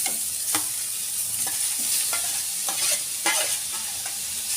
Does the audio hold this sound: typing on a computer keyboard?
no